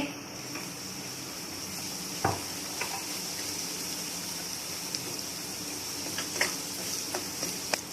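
Semolina roasting in a pan on low heat, with cardamom added earlier, gives a soft continuous sizzle and faint crackle, broken by a few light stirring clicks and taps against the pan.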